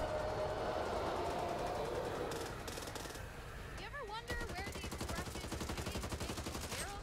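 Gunfire in the co-op video game Back 4 Blood, rapid bursts of automatic weapon fire with dense clattering shots, loud and continuous through the latter half, with game sounds earlier.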